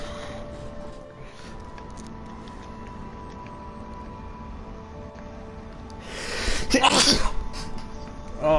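A single loud, sharp sneeze bursts out near the end, following quiet background noise from a Secret of Mana game session.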